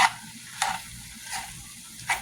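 Soft, steady sizzling of salmon frying in a pan, with a few brief louder bursts of crackle spaced across the clip.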